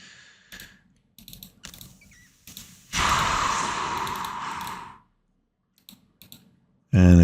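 Mouse clicks select a fleet of destroyers and frigates in a space strategy game: sparse sharp ticks, then a two-second swell of brighter game noise and another burst near the end, all fairly close and with no talk.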